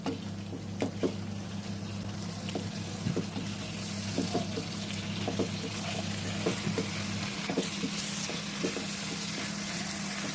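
Spices fry in a pot for chicken makhni handi, giving a low continuous sizzle with scattered soft ticks and a faint hum that drops out partway through.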